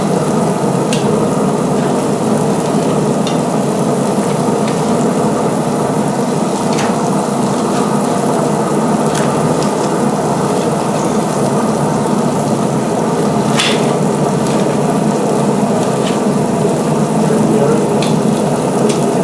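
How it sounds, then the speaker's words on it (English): Potatoes sizzle steadily on a grill alongside steaks and corn, a loud, continuous frying hiss with occasional clicks and scrapes from stirring, while someone talks faintly under it. "give everything a mix and stir here as far as potatoes go"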